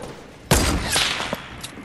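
A pump shotgun fires once in the Fortnite video game, a sharp close blast followed by a decaying rumble and a few faint clicks.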